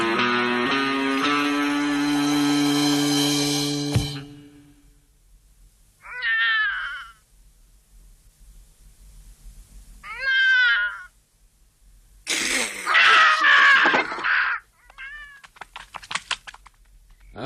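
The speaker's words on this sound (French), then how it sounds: "c'était le chat" A cartoon house cat meows several times in separate bursts, fairly loud and close, following a held musical note, with short gaps of near silence between the cries.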